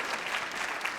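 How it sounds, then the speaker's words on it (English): Audience applause at a live comedy podcast taping in St. Paul, a dense, steady clatter of many hands clapping for about a second with no pauses. "Round of applause."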